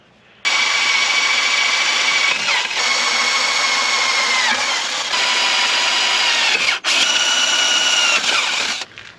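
A power drill drilling a pilot hole whines steadily for about nine seconds, its pitch dipping briefly under load a few times before spinning back up, loud and close.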